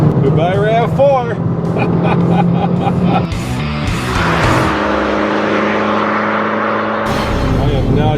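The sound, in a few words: 2012 Fiat 500 Abarth engine accelerating after downshift to third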